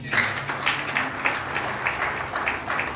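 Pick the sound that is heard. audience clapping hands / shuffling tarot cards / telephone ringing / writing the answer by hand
audience clapping hands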